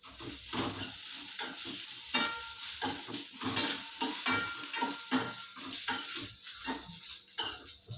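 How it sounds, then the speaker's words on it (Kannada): Cluster beans roasting in about a tablespoon of oil in a pan over medium flame, with a steady close sizzle and a spatula scraping and stirring in a regular rhythm throughout. "ಒನ್ ಟೇಬಲ್ ಸ್ಪೂನ್ ಆಗುವಷ್ಟು ಎಣ್ಣೆ ಹಾಕೊಂಡು ರೋಸ್ಟ್ ಮಾಡಿಕೊಂಡ್ರೆ ಅದು ಚೌಳಿಕಾಯಿ ಸ್ವಲ್ಪ ರೋಸ್ಟ್ ಆದಮೇಲೆ"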